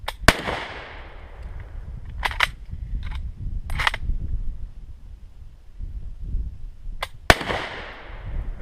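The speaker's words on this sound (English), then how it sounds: "That was almost a full second on that one. Bad ammo." A K98 Mauser fires Persian 8mm ammunition with a delayed hangfire, producing several sharp, loud rifle reports at irregular intervals outdoors, with low background rumble between shots.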